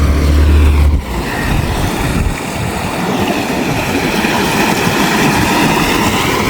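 A small boat approaching a ferry crossing in Sri Lanka, its motor a loud, steady low rumble mixed with water and wind noise, close and continuous with no talk.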